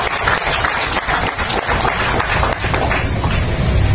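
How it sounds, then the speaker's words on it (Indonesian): A crowd of volunteers at a political gathering in Baloi, Batam, claps loudly and continuously, dense close applause filling the whole stretch without speech. "Tepuk tangan untuk relawan."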